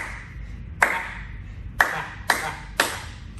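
Four sharp hand claps mark a dance count at a virtual swing dance event, spaced unevenly with two quick ones at the end, close and distinct over a faint background hum.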